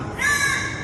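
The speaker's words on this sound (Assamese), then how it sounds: "এটা কাউৰী চৰাই যাৰ মুখত 3 দিনৰ পৰাই শুনিবলৈ পোৱা গৈছে" A crow gives a single short, harsh caw at close range, loud against faint background noise.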